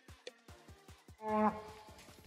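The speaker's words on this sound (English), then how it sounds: "We woke up on day 3 to a huge herd of cows passing through our campsite. Stomping and mooing" A herd of cows passes through a campsite near Gunnison, with one loud, drawn-out moo rising midway over a series of regular, close thuds from the animals moving.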